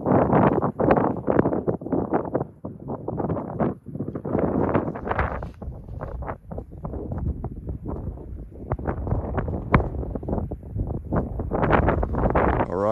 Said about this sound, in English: You can see it's a little breezy.